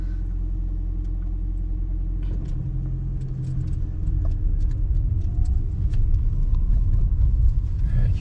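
Car driving on a road in Italy, a steady low rumble of engine and tyres heard from inside the vehicle, continuous and fairly loud with faint rattles on top.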